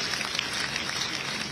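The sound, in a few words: audience applause at women sarpanch conference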